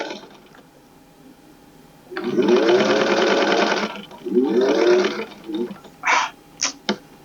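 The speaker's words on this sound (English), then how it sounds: "Now top stitch this part and go all the way across the fleece." A home sewing machine top stitches across a fleece scarf in two loud whirring bursts, followed by a few short mechanical clicks and quick runs.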